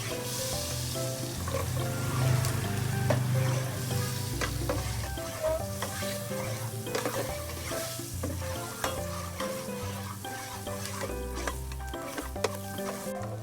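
Garlic sizzles and fries steadily in melted margarine in a pan, being stirred as the base for sopas, a continuous close crackle with occasional utensil clinks and no talking.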